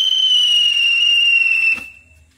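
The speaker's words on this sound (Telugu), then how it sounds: "2 సార్లు విజిల్ వచ్చుకుంటా భూచక్రంలోకి తిరిగింది" A loud, steady high-pitched whistle from a spinning ground firework (bhoochakra) during Dussehra celebrations holds for nearly two seconds, then fades away.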